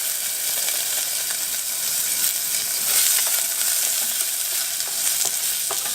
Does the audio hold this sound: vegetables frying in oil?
yes